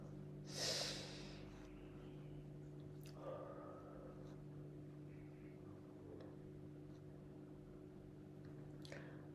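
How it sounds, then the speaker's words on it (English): One deep, breathy inhale sounds near and clear at the start, then quiet stillness with a faint steady hum and a few small soft sounds. "Taking a deep breath."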